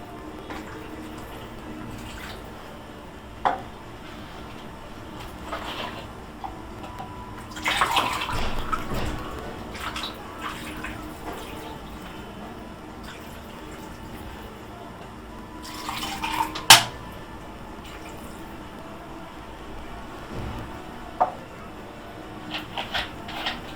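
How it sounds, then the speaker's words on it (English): Water from a cup is poured into an oven pan of roasting chicken and potatoes, a short splashing pour amid quieter kitchen handling noises and occasional clinks. "After 1 hour I put a cup of water."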